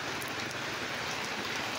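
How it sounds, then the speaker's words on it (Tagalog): Heavy rain pours steadily as a dense, even hiss of falling water at Elyu, with no talk or other sounds over it. "Ay, lumalakas na naman ang ulan"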